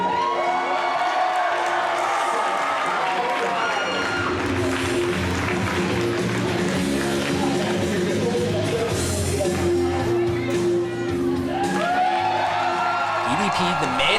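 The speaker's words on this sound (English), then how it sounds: "The crowd is going wild." A wrestling event crowd cheers and roars loudly and continuously, with whoops and shouts rising and falling throughout, alongside an announcer talking over the noise.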